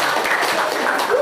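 A class claps together briefly in a classroom, a short burst of close, steady applause.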